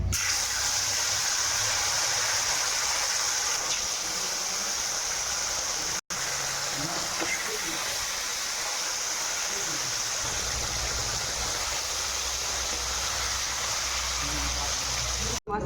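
Small rohu fish fry in hot oil with a loud, continuous hissing sizzle that stays close and steady from start to finish.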